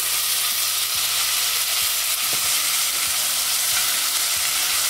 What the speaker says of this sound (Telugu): వేగనివ్వాలి టమాటా కొద్దిగా వేగాక